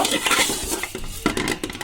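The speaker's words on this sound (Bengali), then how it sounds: "এবার এই সেমাইগুলোকে আমি দুধের মধ্যে দিয়ে দিব" Fried vermicelli tipped into milk in a cooking pot, with busy close clattering of a spoon and metal against the pot, scraping and clinking continuously over the short span.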